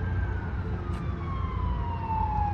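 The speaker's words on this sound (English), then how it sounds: "Got the sirens right there." Distant emergency sirens wail faintly across St. Paul, Minnesota, a single falling tone drifting over steady low city rumble near the Mississippi River.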